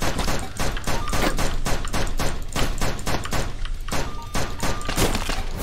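Video game gunfire in AK-xolotl: loud, rapid automatic shots hammering almost without pause for several seconds, with a few short gaps between bursts.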